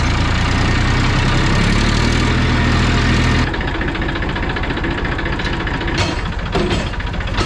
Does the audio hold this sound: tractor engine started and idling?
yes